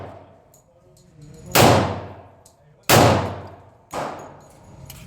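Three loud .45 caliber shots from a 1911 pistol at a gun range, spaced roughly a second apart, each a sharp close blast with a ringing decay.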